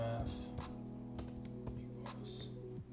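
Computer keyboard typing during a hacking exercise, with a handful of faint, scattered key clicks over a quiet steady hum; a voice is faintly present.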